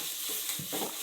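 Egg curry masala stirred and fried in a pan over high heat: a soft, continuous sizzle with a few quiet scraping strokes of a spoon, low in level and close by.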